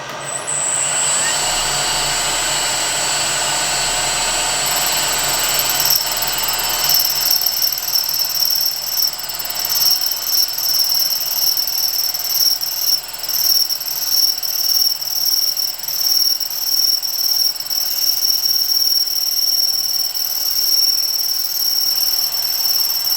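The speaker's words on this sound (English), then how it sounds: "I've set it up in the milling machine and set it at 45 degrees, so now I'm about to mill the slot" A milling machine cuts a slot in a brass pendulum hook set at 45 degrees, a continuous high, squealing whine with a steady machine hum underneath, fluctuating slightly as the cut progresses.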